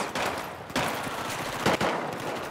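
A shorty gun in a first-person shooter fires in repeated loud blasts, a few sharp shots spaced across a busy, noisy game mix with no talk.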